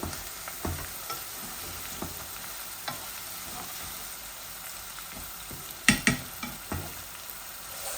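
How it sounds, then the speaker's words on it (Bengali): Lentil bori and onions fry in a pan with a soft, continuous sizzle, punctuated by scattered scraping stirs and a cluster of sharper clatters toward the end; no talking. "আমি পেঁয়াজের সাথে আমার বড়গুলা জাল দিলাইমু যাতে ভিজি যাইতে করে"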